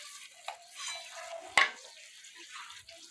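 Mutton kosha stirred in a pot, soft scraping and gentle sizzling close up with a few sharp clinks of the spoon against the metal.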